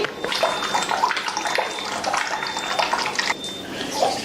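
A Kangen water ionizer machine runs with water pouring steadily from its outlet into a container, a continuous close rushing splash with a faint high whine at times, no voices.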